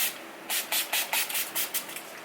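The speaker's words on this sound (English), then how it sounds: "You spray your face a little bit." A rapid series of about eight short hissing bursts from a face-mist spray bottle, close and fairly loud, with brief gaps between pumps.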